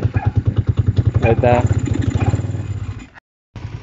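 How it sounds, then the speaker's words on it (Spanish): A 125Z motorcycle engine runs close by with a loud, rhythmic pulsing idle and a brief rev, someone speaking briefly over it before the sound cuts out and resumes. "ya voy aquí en la moto. Vamos a ir hacia el taller."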